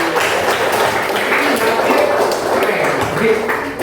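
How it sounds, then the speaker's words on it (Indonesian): Classroom applause during a coding lesson on computational thinking, as a group claps for a student: a dense, steady wash of many hands clapping for about four seconds at close range, with no break. "Tepuk tangan dulu buat Radit."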